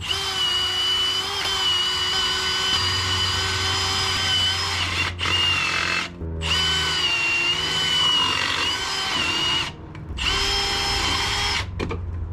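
A power drill whines loudly and continuously as it bores through BMW E36 rear differential bushings, with a few brief pauses where it stops and starts again. Nobody talks.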